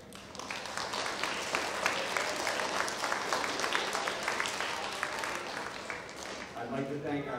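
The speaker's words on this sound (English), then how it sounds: "we can clap." Parents in the audience clap at a school beginner band concert, a sustained round of many hands that tapers off near the end as a voice begins speaking.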